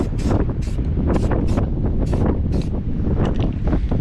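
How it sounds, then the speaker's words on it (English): Strong gusty wind buffets the microphone in repeated bursts, loud and close, with a constant low rumble beneath. "Too windy for painting"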